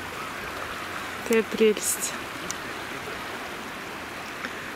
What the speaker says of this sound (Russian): Океан, море.